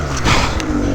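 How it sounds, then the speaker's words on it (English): A snowmobile with a 2-inch paddle track roars and revs hard while churning out of a 4-foot snow drift at night in the woods, loud and close, with engine surges. "The 2-inch paddle digs its way out of another 4-foot drift."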